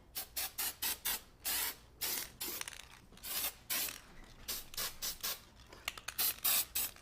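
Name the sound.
Design Master silver glitter spray can spraying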